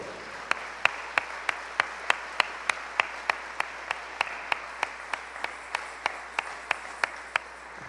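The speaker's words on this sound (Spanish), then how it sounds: "Denle ofrenda de palmas al Señor." A church congregation claps in steady unison during a Sunday service, sharp regular handclaps about every third of a second over a sustained crowd wash, near and even in loudness.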